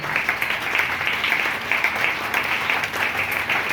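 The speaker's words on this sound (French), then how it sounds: "Est-ce qu'on peut acclamer très fort le Seigneur?" Church congregation at a seminar in Pointe-Noire applauding loudly and steadily, a dense, continuous wash of many hands clapping throughout with no talk over it.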